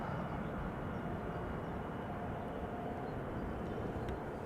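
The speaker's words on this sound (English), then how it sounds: "The next airplane lined up behind me already on the runway threshold is KLM Flight 591 777-200 going to go to Johannesburg" A KLM Boeing 777-200 airliner, built in 2004, rolls for takeoff at Schiphol, its engines a steady, broad, loud roar heard from a distance with no speech over it.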